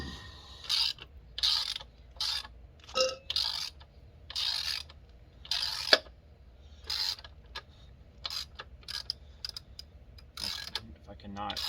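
On a Triumph Street Triple motorcycle, a T50 Torx bit on a ratchet loosens a part, making short repeated bursts of close metallic clicking separated by brief pauses.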